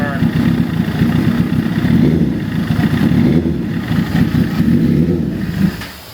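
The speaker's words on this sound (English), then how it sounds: "You hear the idle, how the idle's kind of getting lower and like a little bit more." A 2011 Suzuki GSX-R1000 motorcycle idling on E85 fuel: a close, loud, lumpy low-pitched idle with an uneven pulse that drops off at the end, with a voice talking over it.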